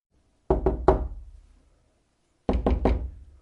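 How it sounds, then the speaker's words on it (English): Soft knocking on a bathroom door: two sets of three quick raps, close and dry with short decays, separated by about a second and a half of silence. "I knocked softly on the door."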